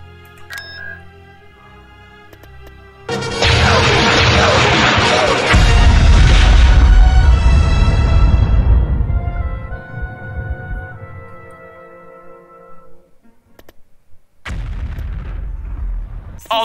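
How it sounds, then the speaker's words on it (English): Planet Alderaan is destroyed in the Star Wars Empire at War game: a sudden massive explosion bursts in loud and sustained, then rumbles and fades before another blast of debris noise, with game audio beforehand. "Alderaan has been destroyed."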